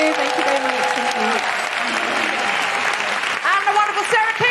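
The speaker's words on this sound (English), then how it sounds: "A big round of applause for the incredible Cariad Lloyd." An audience at a live comedy podcast recording applauds loudly and continuously, with a few voices and cheers rising over the clapping toward the end.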